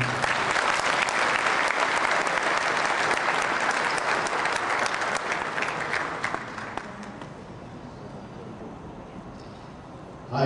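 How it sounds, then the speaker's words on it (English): Audience applause at a Rotary gathering rolls on steadily for several seconds, a dense crowd of clapping hands that thins out and fades toward the end. "Please give them a big applause."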